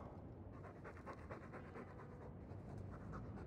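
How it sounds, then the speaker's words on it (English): A Mabari war dog in Dragon Age 2 pants steadily and rhythmically close up, a continuous breathy huffing that runs unbroken from start to finish with no voices over it. "I'm sick of what's-his-name staring and panting"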